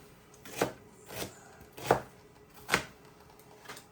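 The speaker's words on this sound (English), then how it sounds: "So I cut it into cubes" A knife chops through well-cooked food on a board, cutting it into cubes, with four distinct, evenly spaced thuds at a steady rhythm, close and moderately loud with no talking.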